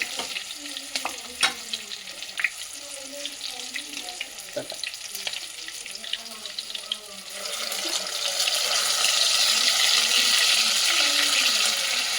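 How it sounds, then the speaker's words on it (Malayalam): Ground coconut paste sautés in oil for a Kerala kurukku kalan, with scattered scraping and stirring clicks at first, then a louder, continuous sizzle rising in the second half. "അരച്ചത് ചേർത്ത് നന്നായിട്ട് എണ്ണ തെളിയുന്നോടം വരെ നമ്മുടെ അരപ്പ് വഴറ്റിയെടുക്കണം"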